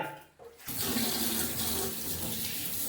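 Tap water runs steadily into a sink as goat tripe is washed under it, a loud continuous splashing stream that starts abruptly after a brief quiet moment and continues alone.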